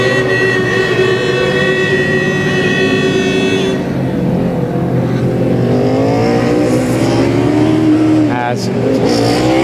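A Formula Student race car roars past during an endurance race at Formula Student Germany 2009, its loud engine note rising and falling as it passes, with a commentator talking over it throughout.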